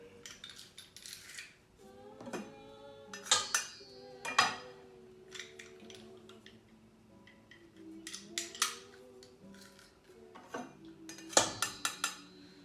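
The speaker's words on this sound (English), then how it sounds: "It calls for 1 clove of garlic. And you crush it in there." A clove of garlic is crushed into a pot for albondiga soup, heard as scattered metallic clinks and scrapes of a utensil against cookware, some louder knocks between quieter handling, with no speech.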